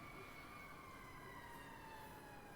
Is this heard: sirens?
yes